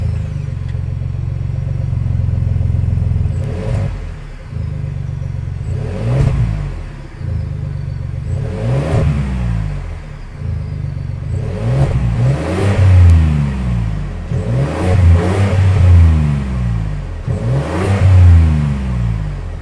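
The 3.5-liter twin-turbo EcoBoost V6 of a 2022 Ford Expedition XLT idles with a deep steady hum, then revs in about six sharp rising blips that fall back, each louder near the end, close and with no talking.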